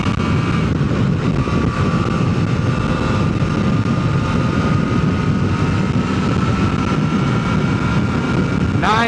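A motorcycle engine runs hard in third gear at about 75 mph, its roar blended with heavy wind rush in a steady, loud drone for the whole stretch.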